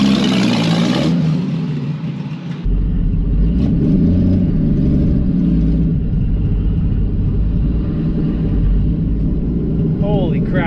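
A revived 1972 Pontiac Ventura Sprint engine runs loud and steady as the car drives, with a low rumbling exhaust that rises and settles through the gears, the first few seconds rougher before a continuous drone.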